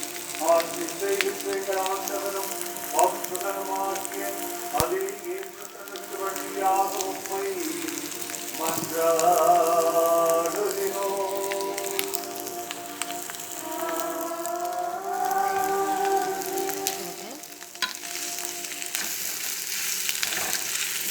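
Torn parotta pieces sizzling and frying in a pan with a thickened gravy, a steady crackling hiss with stirring, close and fairly loud, while a voice talks faintly in the background.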